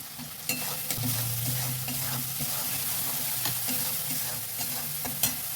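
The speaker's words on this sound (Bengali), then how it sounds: "মশলাটা একটু কষিয়ে নিই" Kashmiri chili powder spice paste sizzling in oil over a raised gas flame while being stirred, with a soft continuous fry broken by a few sharp scrapes and clicks of the spoon against the pan.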